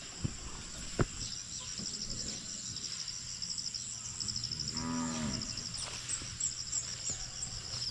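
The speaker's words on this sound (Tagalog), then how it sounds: "Ngayon po, pinastol muna namin yung aming mga kalabaw dito na dalawa." Two water buffalo (carabao) graze on a farm; one gives a single low, drawn-out moo midway through, with steady cricket and insect chirring throughout and a brief knock near the start.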